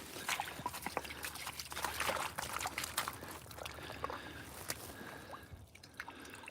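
Water rinses off a rock surface in an underground ancient layer, with faint close dripping, trickling and splashing, irregular and fairly quiet throughout, no voices.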